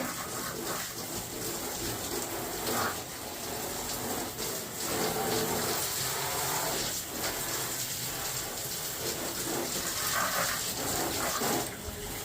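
A garden hose sprays water over a Traxxas Summit RC car to rinse it, giving a steady, close, full gushing hiss that runs unbroken with slight surges and no talking.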